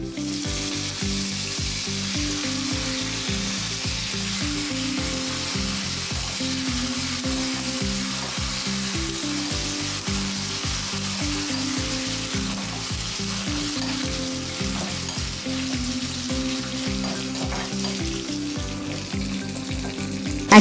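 Wet curry leaves crackle and splutter in hot tempering oil for Telugu gongura pappu, a dense, steady sizzle with rapid popping that carries loud and close throughout, with no voices.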